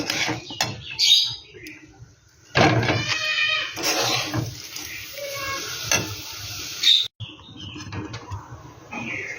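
Rice frying and being stirred in a pan for egg pulao, giving a sizzle with uneven scraping and clattering bursts that stop and start close by, with no one talking.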